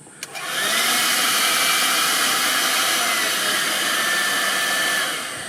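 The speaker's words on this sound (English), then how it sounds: "this time I'm going to try it with a hairdryer" A hair dryer switches on with a click and blows steadily at full power onto a car seat, a loud continuous whooshing roar with a high whine, no voices.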